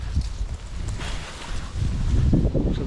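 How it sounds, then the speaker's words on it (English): Gusty wind buffets the microphone outdoors on a walk, a steady low rumble that swells and thickens toward the end, loud and close with no talking. "little bit windy still today"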